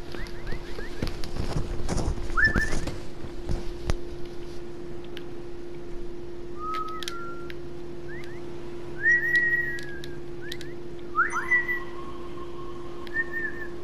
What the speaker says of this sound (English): I hear your character whistling too.